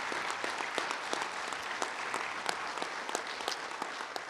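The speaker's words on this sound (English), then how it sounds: "Please give him a round of applause also" A crowd at a union convention keynote applauds steadily, a soft, even patter of many hands with scattered sharper claps, heard from some distance and without talk.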